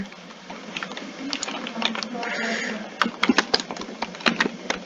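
Computer keyboard being typed on, a run of quick, uneven key clicks, denser and louder toward the end, with a brief murmur of voices in the middle.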